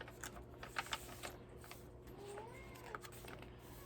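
A house cat that has just finished its food meows softly in a quiet indoor room, with a few faint calls and small handling clicks at low volume.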